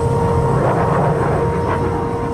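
A fast Soviet jet aircraft flies overhead, a loud, continuous roar of engine noise holding steady and dense throughout without any voices.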